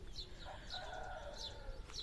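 Faint, distant rooster crows and clucking carry over a soft outdoor morning hiss, with small birds chirping intermittently.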